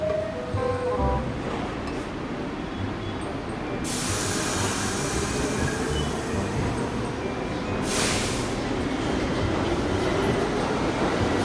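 A subway train runs along its track, a steady broad rumble with rushing noise that stays loud throughout and swells briefly near the end, with no talk.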